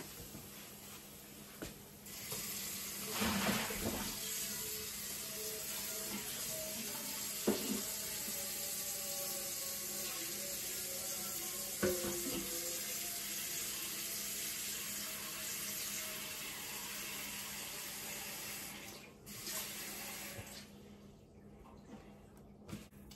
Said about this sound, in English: we're going to put a little more water in here